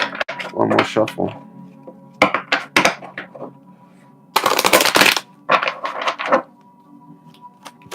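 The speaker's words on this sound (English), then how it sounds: "One more shuffle." Tarot cards are shuffled in quick bursts of riffling and tapping, with short irregular clusters separated by pauses, close and fairly loud against a quiet room.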